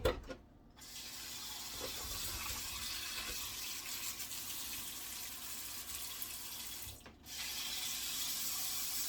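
Food, which is starchy, gets rinsed under a running sink tap, a steady hiss of flowing water with a brief pause in the middle and faint handling noises.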